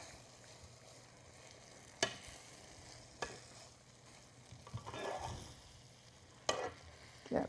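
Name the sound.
tossing cherry tomato pasta together in a pan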